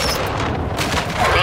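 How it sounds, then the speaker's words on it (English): Loud, dense blasts and gunfire from Call of Duty: Modern Warfare II team deathmatch on Santa Seña Border Crossing, a continuous roar of grenade explosion and shots filling the short clip. "Throwing grenade!"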